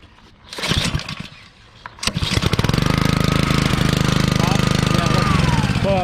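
A small Honda pressure washer engine is yanked with a couple of rough pull-cord tugs, then catches and roars into a steady, loud running drone.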